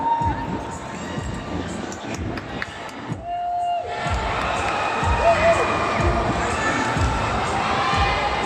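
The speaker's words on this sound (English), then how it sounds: "let us give a warm round of applause to Ana Rhea" Pageant crowd at Miss Dumaguete 2018 cheers and applauds a performer's introduction, loud shouting and clapping that briefly dips then swells again, with voices throughout.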